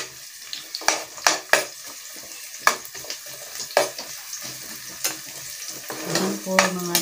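Snails with plenty of ginger being sautéed in a pan, a mix of sharp scraping and clattering stir strokes over a low, steady sizzle, close and fairly loud, with a brief softer bubbling near the end.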